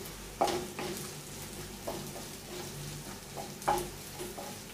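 Green chillies and garlic sauté in a pan at a soft, fairly faint sizzle, broken by a few sharp utensil knocks against the pan, with no voices.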